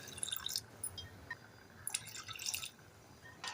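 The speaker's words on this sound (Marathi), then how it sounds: "आता याच्यामध्ये जे शिवल्याचं पाणी होतं ना ते थोडंसं आपण वापरूया" Clam cooking water poured into a spicy clam (shipli) masala in a pan, giving soft, close drips and wet splashes in short bursts against a quiet background.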